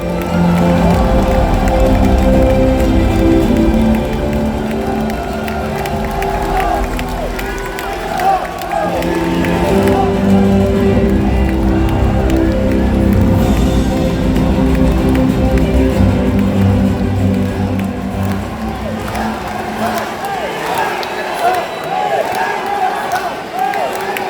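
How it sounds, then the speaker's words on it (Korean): A large crowd at a Democratic Party national convention in Gwangju claps and cheers for a party leadership candidate's speech, a loud, continuous roar of voices and applause with tonal music or chanting running underneath. "김민석 후보의 연설 박수 보내주십시오"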